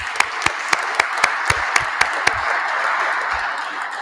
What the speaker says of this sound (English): let's give them a good round of applause for standing up and volunteering